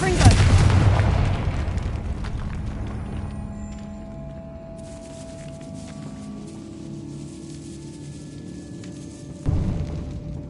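A Confringo explosion spell goes off in a Harry Potter video game, a loud booming burst at the start that rumbles and decays over several seconds, followed by quieter ambience and a second thud near the end.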